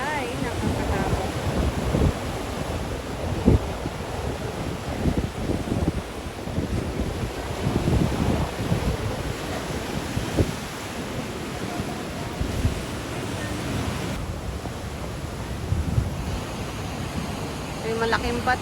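Stormy sea at Atimonan, Quezon, with waves surging and wind buffeting the microphone in a continuous rough roar throughout, close and loud, with no clear break.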